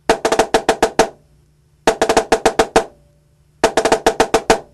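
Three crisp bursts of drum strokes, each a quick cluster of about seven hits with a shifted double stroke (diddle), separated by short pauses, in a drum corps percussion pattern.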